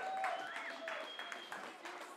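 An audience at a morning stage event breaks into a short burst of applause and cheering, fairly faint and distant, with a voice speaking over it.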